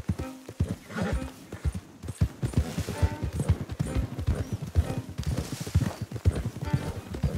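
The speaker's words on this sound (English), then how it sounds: "Don't want the horses clopping around outside the window." Horse hooves clip-clop steadily and close in Red Dead Redemption 2, with a busy, continuous rhythm of several horses and an occasional whinny mixed in.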